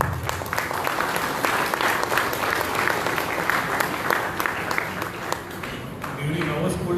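An audience at a prize distribution function for a cooking competition claps steadily and densely for the whole stretch. The applause stays at an even level, and faint voices come through underneath it.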